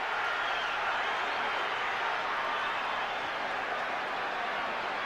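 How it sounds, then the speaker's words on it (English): An arena crowd at the Mike Tyson vs Evander Holyfield rematch roars as round 3 opens, a dense, unbroken wash of cheering that holds at an even level throughout. "Listen to the crowd."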